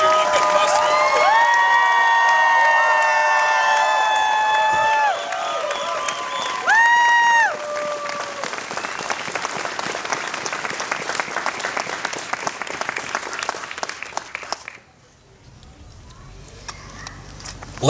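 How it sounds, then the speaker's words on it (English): A crowd at a protest rally in Charlottetown, Prince Edward Island, claps and cheers loudly without pause, with whistles and shouts rising in the first seconds, before the applause cuts off abruptly near the end. "she deserves the biggest PEI cheer you can muster"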